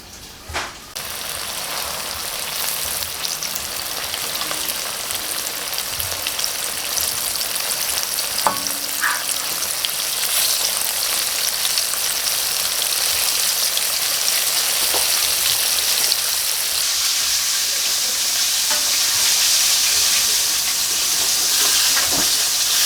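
Fish fries in hot oil for homemade fish and chips, a steady dense sizzle with occasional stirring clatter that grows slightly louder and continues without talk.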